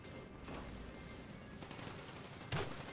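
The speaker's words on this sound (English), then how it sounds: "I'll use the China Lake." A China Lake grenade launcher fires in Call of Duty Black Ops, a sharp loud blast near the end over a continuous wash of distant battlefield gunfire.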